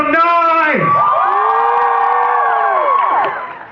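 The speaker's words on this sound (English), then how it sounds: "Everybody make some noise!" A live comedy show audience cheers, whoops and makes noise on cue, a loud, sustained crowd roar with rising and falling shouted voices that fades near the end.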